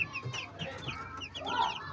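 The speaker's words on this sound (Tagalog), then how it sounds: "Tapos ito yung mga sisiw natin." Gamefowl chicks in a brooder peeping and cheeping in a steady overlapping chorus, close and fairly soft.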